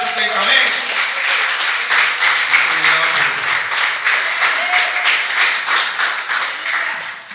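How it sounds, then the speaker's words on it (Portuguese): A church congregation claps steadily for several seconds, a dense, even wash of many hands with voices faintly mixed in beneath. "Ríndele un fuerte aplauso a nuestro Señor Jesucristo."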